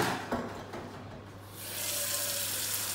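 Water runs steadily from a kitchen tap for cooking umphokoqho, a gentle trickle at first that swells into a full, even gush in the second half, close by with no voices.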